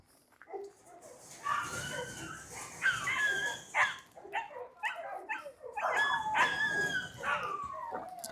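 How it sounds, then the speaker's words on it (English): Several dogs barking, yipping and whining nearby during an outdoor dog walk, with irregular clusters of barks and drawn-out howl-like cries over about eight seconds. "In front of us are dogs barking and distractions"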